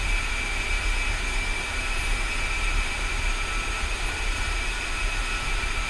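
A steady, loud roar of an A-10 jet's engines runs up on the ground at the end of the runway in a flight simulator, holding a constant high whine with no voices.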